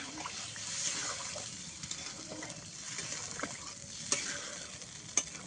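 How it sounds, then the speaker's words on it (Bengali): A pumpkin-leaf curry is stirred in a pan just after water goes in, a soft wet sizzle with scattered spoon scrapes and a couple of brief clinks, fairly quiet and close. "জল দিয়ে দেবো নেড়ে নেবো"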